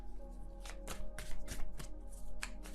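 Tarot cards shuffled by hand, a series of crisp riffling bursts and soft taps at an uneven rhythm, close and fairly quiet with no talking.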